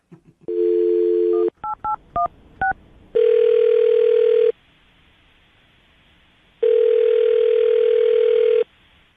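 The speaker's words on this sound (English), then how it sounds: "I'm about to dial Terrence's phone number" A telephone plays a steady dial tone, then a quick run of touch-tone beeps as a number is dialed, followed by two long ringing tones with a pause between them, all clear and close with no talking.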